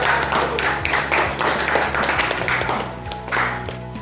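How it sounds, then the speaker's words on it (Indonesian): A school class of grade eight pupils clapping hands together in a classroom, a loose, uneven patter of claps close by, with faint voices and some tapping beneath. "Tepuk tangan dulu, teman kita ini"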